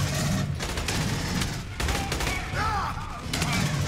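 Dense, sustained gunfire in the video game Aliens: Colonial Marines, loud overlapping bursts from several weapons running almost without pause, with brief dips in the shooting.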